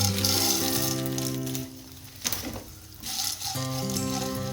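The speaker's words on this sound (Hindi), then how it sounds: "ये घी में हम गोंद भूनने लगे हैं।" Edible gum (gond) frying in ghee over a medium flame, a steady broadband sizzle with brief stirring scrapes and a short quieter lull midway, no talking.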